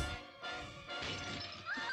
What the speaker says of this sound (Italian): lo zombie piglia il sasso e spacca il vetro